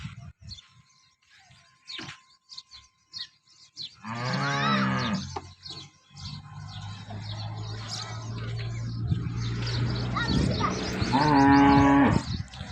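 Dairy cows at a cattle market moo twice, each low drawn-out call standing out clearly over a quiet background of faint chatter and light bird chirps.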